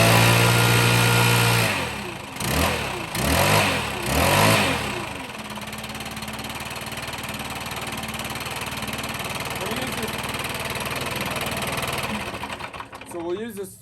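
A Stihl BR 700 backpack blower engine starts with a few loud pulsing pulls and revs, then settles into a steady, buzzing high-pitched drone at throttle, close by and continuous to the end.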